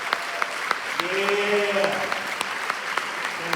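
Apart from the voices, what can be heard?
audience applause for first-year teachers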